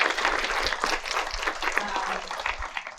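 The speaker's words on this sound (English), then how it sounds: "let's just give one more round of applause for Leary and Kimberlyn" Audience applause at a climate action event panel, a dense wash of clapping from a room full of people, steady and fairly close, with faint voices mixed in.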